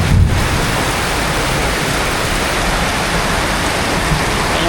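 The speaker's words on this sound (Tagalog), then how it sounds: "Pakalakas ng ulan." Heavy rain pours down in a dense, continuous roar, loud and close, with no other sounds standing out.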